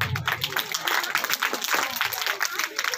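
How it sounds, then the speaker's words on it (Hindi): Scattered audience clapping at a Viksit Bharat Sankalp gathering at Tulsidas ji ki Saray near Udaipur, fluttering and moderately loud, mixed with crowd voices. "तालियां बजती रहे।"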